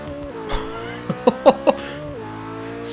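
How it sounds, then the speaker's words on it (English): McLaren 570S in Forza 6 pulling away hard in first gear with the tyres spinning, a loud rising engine note over a few short squealing bursts, no talking. "Spinning the tyres up all the way through first there"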